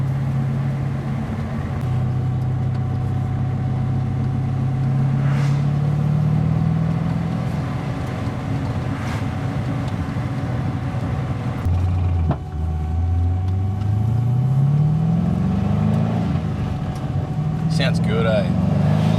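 A turbocharged LS1 V8 engine in an R32 Nissan Skyline hums and rises through several revs, pitch climbing and falling, heard from inside with some talking.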